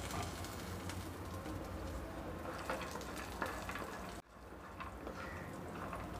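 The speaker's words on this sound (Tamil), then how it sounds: "இப்போ டாப்பிங்ஸ்க்கு தேவையானதை வறுத்து எடுத்துக்கலாம்." Almond and cashew toppings roast in ghee in a pan, with a steady, moderately loud sizzle and frying crackle throughout and a brief dip near the end.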